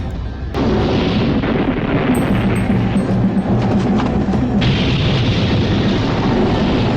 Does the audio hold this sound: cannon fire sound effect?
yes